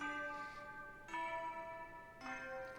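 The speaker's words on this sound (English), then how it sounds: "It's a school bell." A school bell in the Master Detective Archives: Rain Code video game chimes three times at roughly one-second intervals, each ring a clear, ringing tone that decays quietly, alone without talk.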